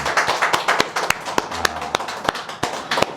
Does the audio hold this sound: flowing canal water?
no